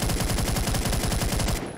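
Rapid automatic rifle fire in a video game, a fast rhythmic burst of loud, closely spaced shots lasting over a second and a half before cutting off.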